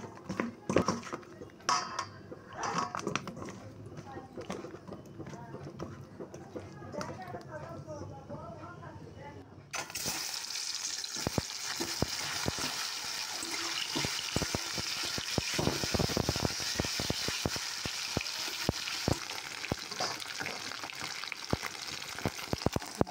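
Fish rubbed with salt and turmeric frying in hot oil: a loud, steady, broadband sizzle begins halfway through and continues without pause, following a stretch of talking and kitchen clatter.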